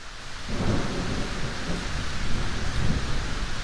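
A thunderstorm with steady heavy rain and a deep rolling rumble of thunder, loud and continuous throughout with no voices.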